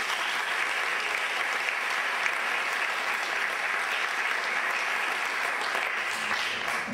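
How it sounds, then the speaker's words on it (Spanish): Steady, dense applause from an audience at a ceremony introducing children, filling the whole stretch at an even level with no pauses or voices on top. "Un fuerte aplauso para Jorge."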